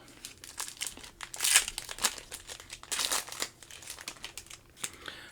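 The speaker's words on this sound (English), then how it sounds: "daring you to open his pack of cards" Foil trading card pack being torn and crinkled open, with continuous close crackling and rustling bursts and no speech.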